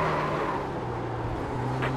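Formula 3 race car engine in the iRacing sim at Circuit of the Americas, a steady droning hum with a faint rise as another car draws alongside, heard on its own throughout.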